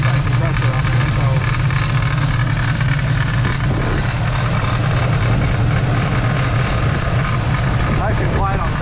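A vehicle engine idles steadily while warming up after a compressor was removed from the belt, a continuous close, loud low drone with a little background noise layered on top.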